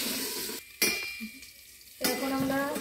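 Potatoes and cauliflower fry in a pan for a coconut sabzi, a soft steady sizzling hiss that drops out briefly in the middle, with faint utensil clinks.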